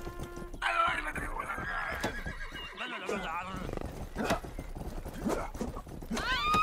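Horse in the medieval open-world game Rustler whinnying loudly, with clip-clop of hooves, over steady game music and effects while someone talks throughout.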